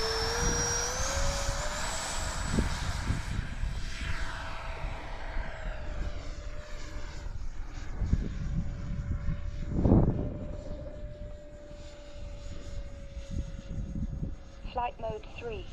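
A Freewing 70mm F-16 RC jet flies overhead, its ducted-fan whine rising and falling as it passes at moderate distance, with a louder swell partway through and wind noise throughout.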